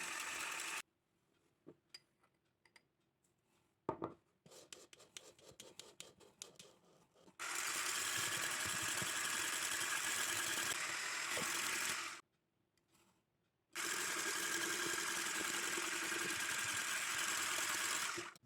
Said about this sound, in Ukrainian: Починаємо збивати білки на середній швидкості до утворення піни.